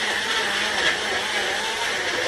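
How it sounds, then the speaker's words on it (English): A blender runs steadily at high speed, mixing a piña colada with peach purée; its dense, even whir fills the whole moment without pause. "So we got all this in the blender."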